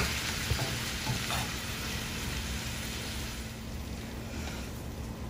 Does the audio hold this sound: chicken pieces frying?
yes